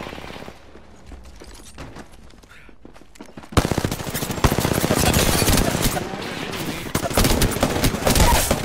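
Automatic weapon fire in the video game Apex Legends, a loud, sustained rapid burst of shots after a quieter stretch, dense and continuous at close range.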